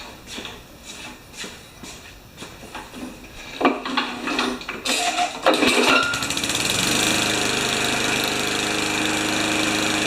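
A 1970 Craftsman Eager lawn mower with a Tecumseh engine rattles through several tries, then catches and runs loudly at a steady, buzzing pace for the last few seconds.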